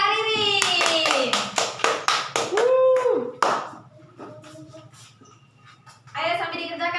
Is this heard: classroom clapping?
yes